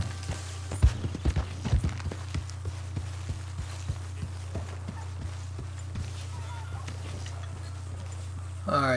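Horse hooves clip-clop at a slow, steady walk in the video game Red Dead Redemption 2, sharp close strikes over a low droning hum, with a voice speaking at the end.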